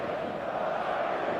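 Stadium crowd in the football video game eFootball 2026 roaring on match day, a dense, steady wall of cheering and chanting that holds at an even level throughout with no clear individual voices.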